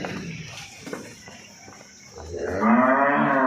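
A water buffalo gives a drawn-out, loud moo toward the end, after a stretch of quiet rustling and faint shuffling.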